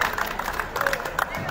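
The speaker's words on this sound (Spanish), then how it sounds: "lo recibimos con un fuerte aplauso" An audience at an education workers' rally gives a loud round of applause to welcome a speaker, with claps and crowd murmur running throughout and voices talking over them.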